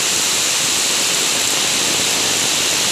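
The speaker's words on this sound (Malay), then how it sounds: "Hujan sangat lebat." Very heavy rain pours down as water overflows onto a road, a loud, dense, unbroken hiss close by with no talk.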